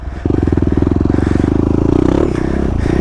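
Yamaha WR250R dirt bike ridden along a muddy, rutted trail, its single-cylinder engine thrumming loud and close in a steady, pulsing drone with clattering and scraping over the top.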